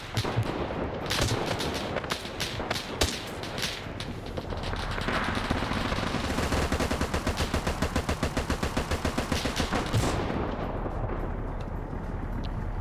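Machine gun fire in a video game battle on Raate Road, with rapid, evenly spaced bursts growing into a long continuous rattle, set against scattered heavier booms.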